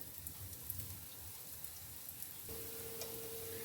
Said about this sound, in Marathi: हे मंद आचेवर आपण तुपामध्ये शालो फ्राय करून घेणार आहे